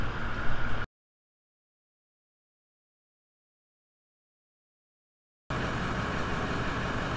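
A vehicle's Torqit stainless steel DPF-back exhaust runs with a rough, steady engine note. It is audible briefly, then cuts to several seconds of total silence, then resumes.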